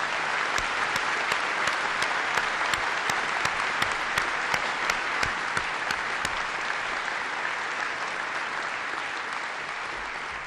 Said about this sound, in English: He deserves your applause.